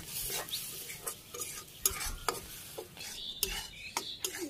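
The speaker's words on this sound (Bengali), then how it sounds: "এই আলুগুলো দিয়ে দিই, এই ডালের সাথে ভাজি হয়ে যাবে" Potatoes stirred into frying lentils in a pan, a quiet background sizzle broken by repeated scraping and clacking strokes of a spoon at an uneven pace.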